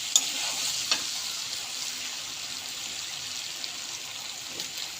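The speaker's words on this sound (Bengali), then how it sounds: "দেখুন এইভাবে নাড়তে হবে।" A soybean and chickpea curry is stirred in a pan, giving a soft, steady sizzle and wet scraping with a couple of small clinks, fairly quiet and close.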